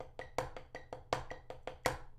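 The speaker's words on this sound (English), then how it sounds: "we're gonna play paradiddles again, but it's gonna be in triplets" Drum paradiddles in a triplet feel, sharp evenly spaced strokes with accents moving across the pattern, close but soft, played alone without talk.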